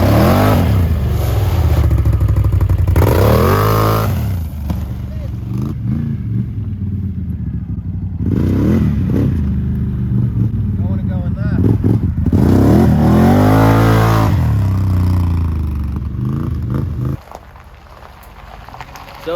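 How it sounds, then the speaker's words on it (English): Can-Am Outlander ATV engine revving hard as the quad pulls wheelies on a gravel driveway and grass, with repeated throttle surges rising and falling over a steady drone, close and loud, with a person talking over it. "Just try and do a little wheelie here in the gravel driveway and in the grass"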